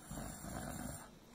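A voice imitates a bear snoring during a storybook reading: one drawn-out, raspy snore lasting about a second, then fading.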